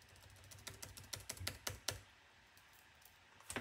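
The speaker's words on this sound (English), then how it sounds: "entering my password right now." Keys tapped on a computer keyboard as a password goes in, a quick run of close clicks that slows and then stops, with one last tap at the end and no speech.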